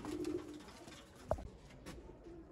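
Pigeons of a crossbred pair in a home loft make soft, low cooing calls, faint and indoors, with a single sharp knock partway through.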